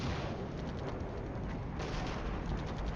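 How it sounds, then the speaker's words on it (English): Artillery fire support in the wargame Wargame, heard as dense, continuous rumbling booms and crackling impacts blending into a steady barrage, fairly faint and distant throughout with no talk. "Artillery coming in as fire support."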